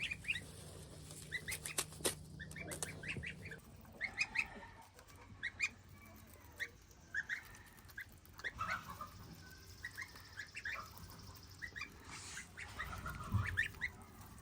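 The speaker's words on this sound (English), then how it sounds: "I see you, Goslings." Goslings on a farm peep and chirp faintly in a rapid scatter of small calls, with occasional louder honks and rustling over a quiet outdoor background, and no talking.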